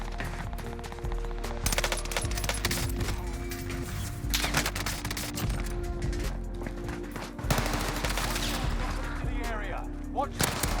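Rapid automatic gunfire from the Cooper and Welgun in Call of Duty: Vanguard, dense continuous bursts and volleys with explosions and game effects layered throughout.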